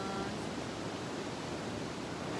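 Water flows outdoors among rocks and moss in a forest, a dense, steady rushing wash that fills the whole stretch with no other sound standing out.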